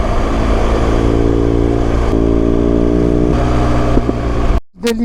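A motorcycle climbs the Col de l'Iseran on a hot 33-degree day, its engine running at 100 degrees. The loud, steady drone holds a tone that shifts with revs, then cuts off abruptly near the end.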